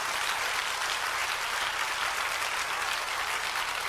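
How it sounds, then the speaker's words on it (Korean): A church audience claps in a continuous, loud wash of applause that holds steady throughout, with many hands at once and no voice above it. "이거 박수"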